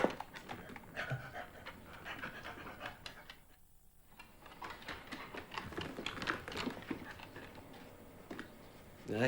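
Dogs pant rapidly and steadily close by, with quick rhythmic breaths and occasional whimpers, while a person talks over them.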